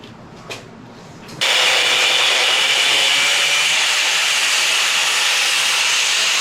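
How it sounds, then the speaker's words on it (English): A cutoff wheel slices through a part of a 1939–1948 Ford front straight axle, starting abruptly after a brief quiet moment and then holding a loud, steady, high grinding hiss for several seconds. "I'm going to cut that sucker off right there with the cutoff wheel"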